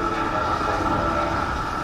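Subway train rumbling past in Call of Duty Warzone, a steady, loud, dense rail roar that holds even throughout with no breaks or horn.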